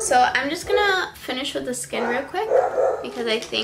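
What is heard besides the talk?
dogs barking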